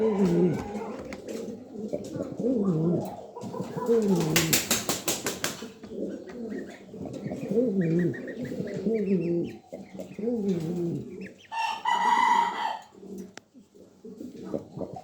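A pair of Spanish pouter pigeons sitting on eggs coo in repeated low rolling calls, close by, with a brief burst of wing flapping near the middle and a sharper call near the end.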